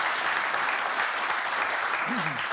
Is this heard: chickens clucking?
no